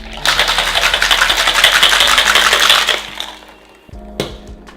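A Tequila Fizz cocktail with ice is shaken hard in a shaker, a loud continuous rattle for about three seconds, then a few lighter clinks and a sharp knock.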